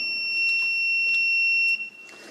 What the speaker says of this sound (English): it triggers the alarm.